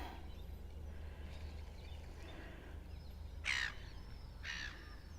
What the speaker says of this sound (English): And that's a seagull, noisy seagull.